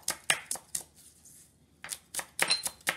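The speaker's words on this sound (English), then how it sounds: "I like the stalk as well. So I just chop it" Fresh coriander stalks get a rough chop with a kitchen knife for pork gyoza: a run of crisp close knife strikes on a board, a short pause, then another quick burst of chopping.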